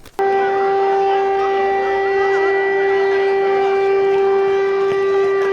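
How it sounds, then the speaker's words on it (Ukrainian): An air raid alert siren sounds during a school charity fair at a lyceum in Ukraine: a loud, steady wailing tone that starts abruptly and holds at a constant pitch for several seconds before cutting off. "Завадив проведенню благодійного ярмарку сигнал Повітряна тривога."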